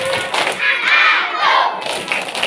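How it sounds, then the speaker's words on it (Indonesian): Children's group chant with rhythmic clapping at an Islamic Isra' Mi'raj sermon gathering, a crowd of young voices shouting together loudly and close, with thumping claps running through. "Tepuk anak soleh."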